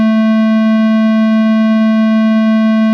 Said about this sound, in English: If we were to play our sound, it's distorting it into a square wave type shape.